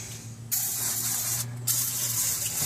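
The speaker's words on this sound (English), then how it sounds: "we're just going to clean off the inside of the transmission, again using more brake clean" Gunk brake cleaner sprays in steady hissing bursts onto the inside of a 2001 Ram 2500 transmission, with a short break in the middle before the aerosol spray starts again, close and continuous.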